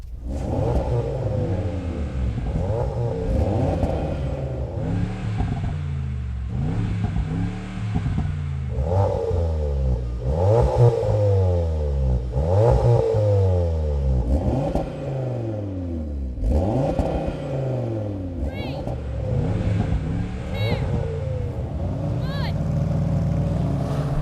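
A Mercedes-AMG G63, an Audi RS3 and a Seat Leon Cupra R launch in a drag race, engines revving hard and rising through repeated gear changes, loud and close, with a driver's voice cutting in under the roar.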